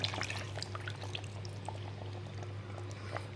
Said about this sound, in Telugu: దీంట్లో కాస్త చింతపండు కలుపుకున్న నీళ్లు పోస్తున్నా